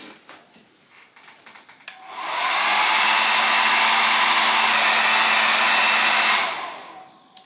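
A hair dryer blows steadily on a freshly painted wine glass, switching on with a rising whoosh and running loud and constant for about four and a half seconds before cutting off.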